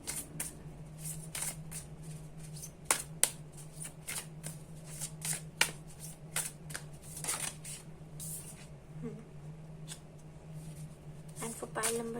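Tarot cards shuffled and drawn by hand during a reading: a steady rustling, riffling flurry of card sounds with sharp flicks throughout, and a faint voice in the background.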